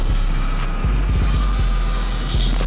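Surron Ultra Bee electric dirt bike, street version, riding on a street, with a constant loud low drone and whine and a few sharp bumps and rattles, no talking.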